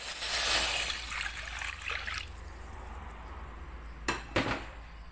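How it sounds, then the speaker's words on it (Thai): Water pours into a pan for a tom yum soup of red tilapia, a soft splashing trickle at the start that fades, followed by a couple of brief clinks of cookware. "ใส่น้ำลงไป"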